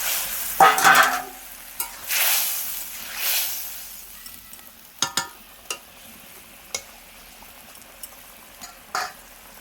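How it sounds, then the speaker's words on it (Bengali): Bhola fish pieces go into a boiling gravy in a village kitchen, making a burst of sizzling and bubbling followed by sparse clinks and clatters of a utensil against the pot, with no talking. "দেখো ঝোলটা ফুটে গেছে, মাছগুলো দিয়ে দেবো।"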